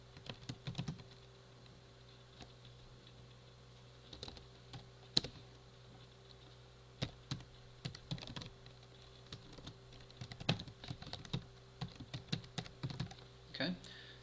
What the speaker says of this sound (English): we can just type this one in